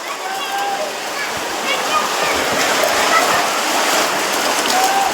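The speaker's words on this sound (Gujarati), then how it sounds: "તો જો ગાઈસ અહીંયા પાણી ચાલુ જ હોય." Water flows without pause at Sapteshwar, a broad, steady rushing wash like a small stream or cascade, close by and loud. Someone talks over it.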